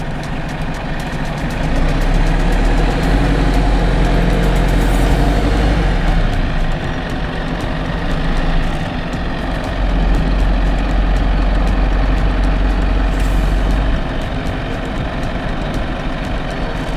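Stuck lorry's heavy diesel engine droning and rising in revs while the rear wheels spin, a continuous loud low rumble with surging swells, close by.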